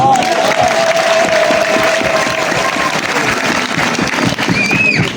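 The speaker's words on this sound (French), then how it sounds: "Ceux qui m'ont compris devaient applaudir Dieu." A church congregation claps and cheers at a French-language liberation service, the dense applause steady and loud throughout with voices mixed in and a sustained tone running beneath.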